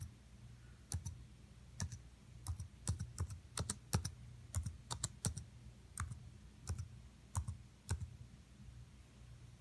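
Someone types on a keyboard in a quiet room, producing irregular, sparse keystroke clicks spread across several seconds with short gaps between them.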